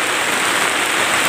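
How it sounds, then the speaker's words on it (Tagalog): Steady rain falls on a mountain farm, a dense, loud, even hiss of drops striking surfaces close by, with no voices over it. "Pero naabutan kami ng ulan ngayon dito"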